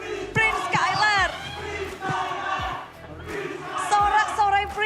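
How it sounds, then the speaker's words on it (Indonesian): A crowd at an esports event roars and chants for Prince Skylar of ONIC, with loud overlapping shouts that rise and fall across the clip. "Sorak-sorai Prince Skylar dari Sonic di sini."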